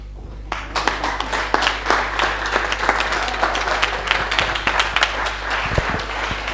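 An audience at a gospel music show claps loudly, sharp individual claps standing out over a steady low hum, continuous and close for the whole stretch.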